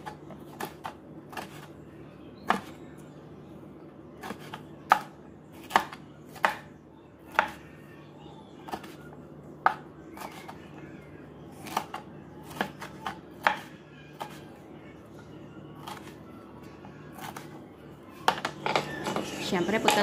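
A knife chops bell pepper on a cutting board in sharp, fairly regular taps spaced about a second apart, quickening near the end, with a voice talking at times.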